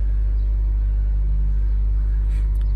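A 2014 Nissan Juke Nismo RS with 73,000 miles on a test drive gives off a loud, steady low engine rumble from inside the cabin, with a few faint clicks near the end.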